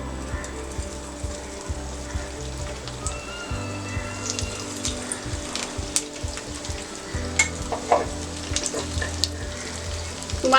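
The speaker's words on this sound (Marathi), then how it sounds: "तेल तापलेलं आहे, कटलेट सोडूया।" Maggi cutlets frying in hot oil in a pan, a steady loud sizzle with crackling pops running throughout, close up with no talking.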